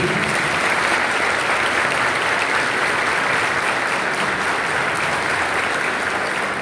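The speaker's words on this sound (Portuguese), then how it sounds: "Uma bonita salva de palmas para ele." A warm round of applause welcomes seminarian Gustavo Rosa to the front during a liturgy week gathering, dense, steady clapping from a room full of people filling the whole stretch without talk.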